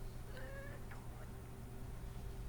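A pet cat named Remy gives a couple of short, soft meows over a steady electrical hum, faint and indoors, with no talking.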